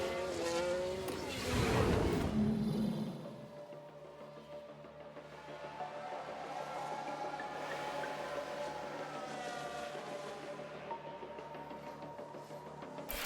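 In the F1 Manager 22 racing game, tires lock up with a loud, rushing skid that peaks early and then fades into the whine of race car engines carrying on at a distance.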